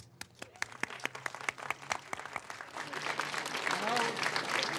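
Audience clapping for domestic violence survivors at a Domestic Violence Awareness event, starting as scattered individual claps and swelling into steady, dense applause from a crowd.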